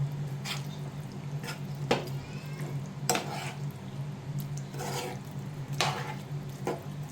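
Fried chicken pieces tossed and stirred into a simmering cashew gravy in a pan for a home-style chicken roast, giving intermittent scraping and wet clinking strokes over a steady low hum.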